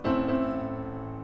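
A single rich Bösendorfer piano chord is struck and sustains warmly, fading slowly over about a second.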